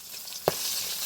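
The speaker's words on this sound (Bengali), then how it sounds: "এবার ট্যাংরা মাছটা ভেজে নিব।" Tangra fish fries in hot oil, a steady near sizzle with one sharp pop partway through.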